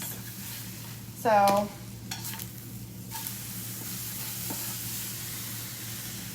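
Eggs fry in a pan with a soft continuous sizzle, broken by a short scraping stir and a few light utensil clicks; one brief spoken word.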